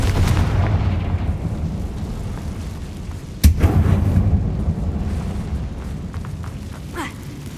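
A Confringo fire spell blasts inside an abandoned mine tunnel in Hogwarts Legacy, one sharp explosive crack landing midway over a steady low rumble of ambient drone, with a softer whoosh trailing near the end.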